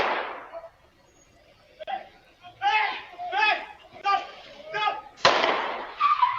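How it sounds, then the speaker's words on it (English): Gunfire exchanged between police and a shooter on a New York street, caught by a Ring doorbell camera: a sharp bang opens, then raised, shouting voices, then another loud crack near the end. "Ring camera video shows the moment gunfire was exchanged between police and the shooter"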